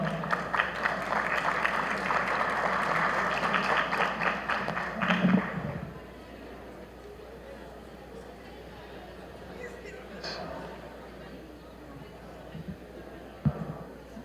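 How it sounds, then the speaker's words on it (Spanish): A conference audience gives a warm round of applause to welcome a speaker, dense clapping for about five seconds that stops abruptly, followed by quiet room tone with a few faint knocks and shuffles. "la presencia del señor Luis Miguel Castilla, a quien vamos a recibir con un cálido aplauso."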